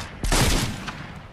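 A short burst of gunfire erupts in the video game Fortnite, a dense rattling volley that starts abruptly and trails off with a faint echo.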